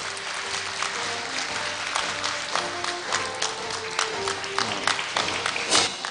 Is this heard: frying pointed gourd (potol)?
no